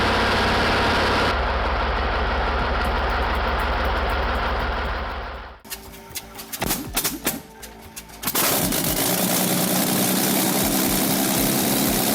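A Yak-1 Soviet World War II fighter with a 1,100 horsepower V12 Klimov M105P engine, loud propeller engine roar that breaks into sputtering, popping bursts before catching again into a strong steady drone.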